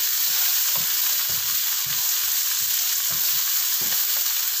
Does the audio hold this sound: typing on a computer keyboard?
no